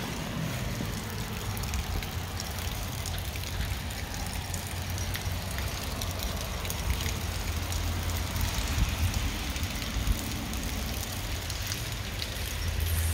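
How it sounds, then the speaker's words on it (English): Steady rainstorm outside a waterfront studio in California, a continuous broadband wash of falling rain with a low rumble beneath, constant and fairly distant, with no talking. "So there's a little bit of a rainstorm out here."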